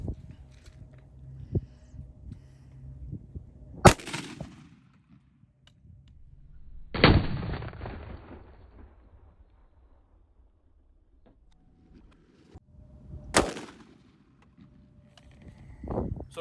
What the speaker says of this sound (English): So we just took a shot with the AR-15